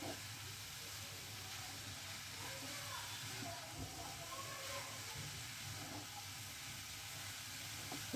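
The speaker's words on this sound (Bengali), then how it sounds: "এইভাবে এখন একটুখানি এটাকে ভাজবো" Grated carrots fry in a pan for gajar halwa, giving a steady, fairly quiet sizzle and hiss that runs unbroken throughout.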